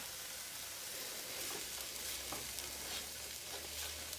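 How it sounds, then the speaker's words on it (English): Chicken stirred in a hot pan for taco casserole, a steady sizzle with soft scraping of the spoon running throughout, close by. "I'm just going to stir that around."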